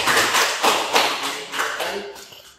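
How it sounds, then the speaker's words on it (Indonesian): A small group of participants in a classroom teacher-training session claps together, a short burst of brisk, uneven hand claps with a few rhythmic surges that fades out within a few seconds. "Beri tepuk tangan untuk kita semuanya."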